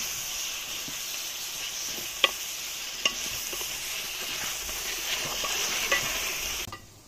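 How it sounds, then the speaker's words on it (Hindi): Chicken frying and being stirred in a cooked paste of onion, tomato, ginger and garlic in an outdoor village kitchen, with a steady sizzle throughout and a few sharp clinks of the stirring spoon, fairly close and with no talk. "तो अभी हम इसमें डालेंगे चिकन।"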